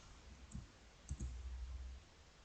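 Mouse clicks in spreadsheet work on a computer: a lone click, then a quick close pair of clicks like a double-click, faint and near over low background hum.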